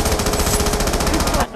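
Mystery box leaving in Black Ops 2 Zombies, Mob of the Dead map: a loud, rapidly pulsing buzzing rattle lasting under two seconds before cutting off, with game sounds blended in.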